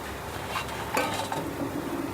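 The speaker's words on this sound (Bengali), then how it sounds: "নেড়ে দেব" Garam masala being stirred in a pan for Bengali potoler dorma, a short spell of metal spatula scraping and light clinks against the pan over a soft sizzle, close, with no talking.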